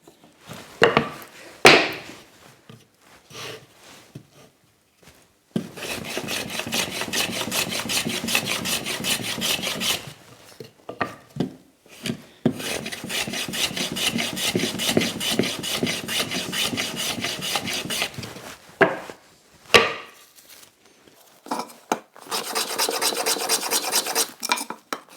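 Long stretches of steady, rough rasping as a file is worked back and forth over the edges of scrap wood for a plasterer's hawk, broken by short pauses and a few knocks between passes.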